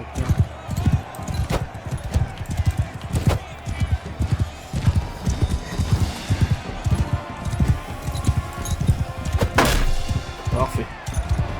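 Heavy, rapid hoofbeats of horses galloping in a battle in Mount & Blade 2 Bannerlord, loud repeated thuds with occasional sharp impacts, while someone talks over them.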